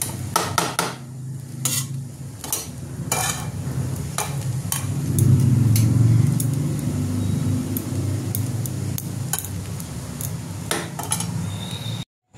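Chicken chow mein is tossed and mixed in a pan, with repeated sharp scrapes and clinks of a utensil against metal and a soft sizzle rising in the middle, close and fairly loud, ending abruptly.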